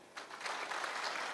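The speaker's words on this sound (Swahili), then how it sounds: "pigia yeye makofi." Audience clapping at a public security forum in Kakamega County, Kenya, a steady burst of applause that starts after a brief quiet moment and continues without a break.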